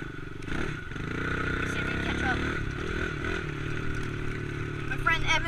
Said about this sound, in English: Yamaha 110 in second gear right now. Third gear. Alright, we're gonna go in fourth gear.